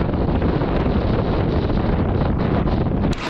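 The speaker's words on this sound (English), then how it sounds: "I hope you guys can hear me well because it's super windy." Strong wind at a kitesurfing spot roars continuously and loudly across the microphone, a dense unbroken buffeting that cuts off abruptly at the end.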